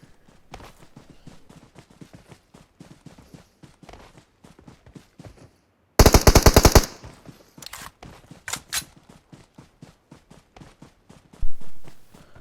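PUBG Mobile gunfire: a sharp, loud burst of rapid automatic shots lasts under a second, followed by several scattered single shots and a later short burst, over a continuous patter of in-game footsteps.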